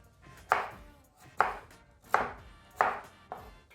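A knife chops firmly through sweet potato on a board, five distinct cuts spaced about a second apart, close and clear.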